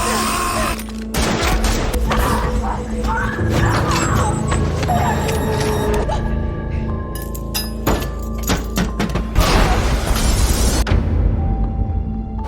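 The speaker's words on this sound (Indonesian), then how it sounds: "Setelah ledakan tersebut" A loud blast amid chaotic action, with booming impacts, crashes and rapid bursts like gunfire, ending in a brief ringing quiet.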